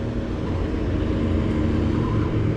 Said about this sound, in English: Lots of traffic from small boats like this fisherman coming through here.